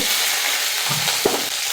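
Mustard seeds, green chilli and curry leaves frying in hot oil for a Kerala-style tempering, a steady close sizzle with a brief stir or pop near the end and no voices.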